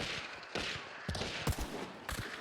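Pistol shots in a multiplayer shooter, several sharp cracks spaced irregularly over a constant noisy background of ambient game sound, fairly loud and close with no talk over them.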